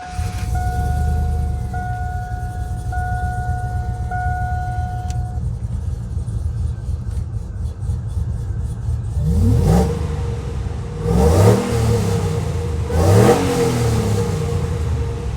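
A supercharged Chevrolet Suburban engine revs and accelerates on a drive, a steady mid-pitched rumble building through repeated rising surges near the end, each climb followed by a drop as gears shift, with no talking.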